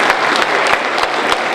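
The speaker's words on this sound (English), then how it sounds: "So round of applause for them." An audience claps for students nominated at a school awards ceremony: dense, steady applause held at the same level throughout, with a few sharper claps standing out from the mass.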